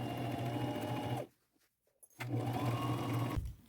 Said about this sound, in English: the machine sewing is all done